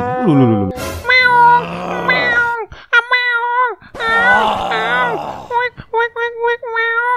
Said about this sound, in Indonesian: Ternyata itu adalah suara kucing lagi wik-wik alias lagi kawin.